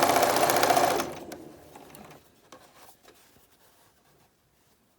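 A sewing machine stitches a protective mask seam in a loud, fast, steady burst for about a second, then stops, leaving scattered faint clicks and handling sounds; a voice speaks briefly.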